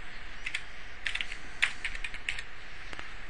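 Someone types a SQL username and password on a computer keyboard, a close burst of quick, irregular key clicks with brief pauses and no voices.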